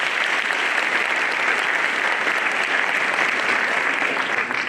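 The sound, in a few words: audience applause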